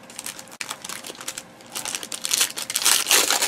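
Crinkly plastic packaging of a sports card box being handled and crushed up close, a loud continuous rustle with sharp crackles that grows denser and louder toward the end, no talking.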